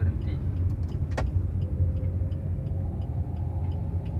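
A car on a driving lesson slows and brakes to a stop, a steady low engine rumble close by with a brief sharp click partway through, no talk over it.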